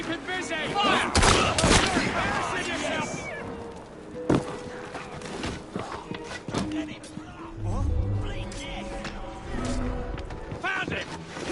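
Scattered pistol shots crack through a busy Assassin's Creed Syndicate street fight, some loud and close, others fainter, mixed with shouting voices and background commotion.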